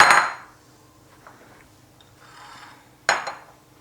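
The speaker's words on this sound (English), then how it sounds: "we will scoop out the stuffing, all the soft part, but you leave a little bit on the skin" A spoon scraping soft stuffing out of hot baked potato skins, with two sharp clinks of metal on a dish at the start and near the end and softer scraping between them.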